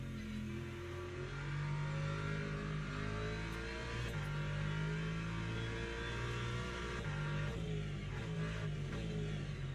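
Racing car in Le Mans Ultimate, its engine droning and revving steadily while warming tyres on a lap, a continuous loud mechanical hum with shifting pitch and faint tyre and track noise throughout.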